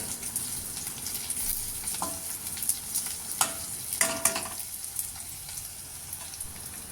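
Green chilies, garlic and ginger sautéing in a pan for a brinjal curry, a continuous close sizzle with spoon stirring and a few sharper scraping knocks in the middle.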